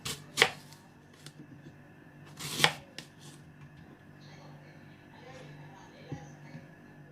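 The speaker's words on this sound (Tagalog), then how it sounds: "Slicing ko. Gamit tayo ng ceramic knife para hindi mag-brown yung" Ceramic knife slicing through an apple, giving two sharp, close cutting strokes early on, followed by a few fainter taps and rustles over a low steady background hum.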